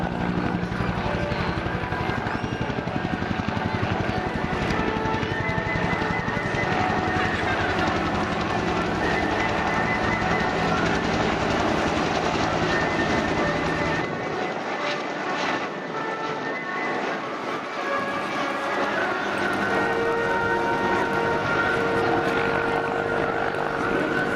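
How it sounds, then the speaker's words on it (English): A Bell UH-1 Huey and a Hughes OH-6 Loach helicopter flying at an air show display: continuous loud rotor and turbine drone, fairly near, with a brief dip in low rumble partway through as they pass. "two unique helicopters in the guise of the Huey and the Loach"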